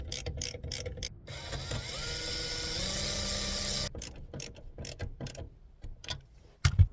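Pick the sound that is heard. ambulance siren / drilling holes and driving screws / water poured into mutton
drilling holes and driving screws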